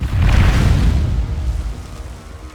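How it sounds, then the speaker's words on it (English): A deep bomb blast in Conan Exiles, one heavy rumbling explosion that booms loudly at first then rolls and fades over a couple of seconds. "You can't skimp on the bombs for those."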